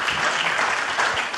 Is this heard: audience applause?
yes